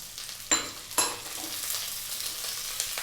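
Bell pepper goes into a pan of sautéing carrots and onions, with two sharp sizzling bursts followed by a steady fry and stirring, no voices.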